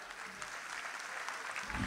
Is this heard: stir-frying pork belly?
no